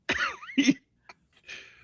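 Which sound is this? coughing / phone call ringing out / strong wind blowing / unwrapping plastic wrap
coughing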